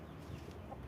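A rooster clucking softly in a farmyard, a low, steady murmur of fowl sounds that runs throughout with no other voices over it.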